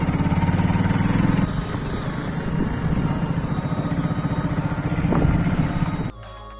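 A motorbike engine runs steadily during a ride on a rural eco-tourism route in Udalguri, a loud continuous pulsing drone with rising and falling revs that cuts out abruptly near the end.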